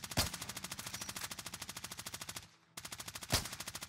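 Video game gunfire, a rapid fully automatic burst of evenly spaced shots that breaks off for a moment and resumes, with a couple of heavier single blasts standing out among them.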